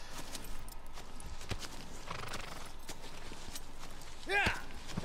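Horse hooves in the video game Shadow of the Colossus: rhythmic clip-clopping runs under a quiet voice, and a sharp whinny rings out near the end.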